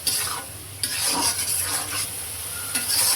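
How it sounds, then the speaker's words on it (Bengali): Shrimp frying with spices in a pan for Bengali lau chingri, with steady sizzle and repeated scraping stirs of a spatula, close and fairly loud, no voices. "চিংড়ি মাছটা ভালো করে কষিয়ে তারপরে লাউ দিয়ে দিবি।"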